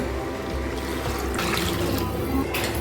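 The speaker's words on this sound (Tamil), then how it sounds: "ரசம் வேணுங்கிற அளவுக்கு தண்ணி ஊற்றிக்கோங்க." Water pours steadily into a pot for country chicken rasam, a continuous splashing gush nearby that brightens and swells midway, with faint background noise.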